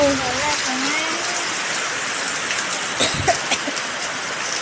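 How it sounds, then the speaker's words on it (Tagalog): Rain pours down steadily during a tropical storm, a continuous broadband hiss with a few louder splashes, while people talk over it. "Umulan, umulan, guys!"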